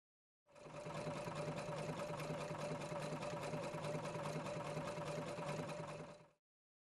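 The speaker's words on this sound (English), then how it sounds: "Select the stitch again to start stitching from the beginning of the heart" A Husqvarna Viking Platinum Plus sewing machine stitches a decorative heart pattern, its motor whirring in a steady, rapid rhythm with a constant tone for about six seconds, close and even, with no talking.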